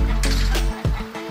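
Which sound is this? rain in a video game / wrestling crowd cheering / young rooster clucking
young rooster clucking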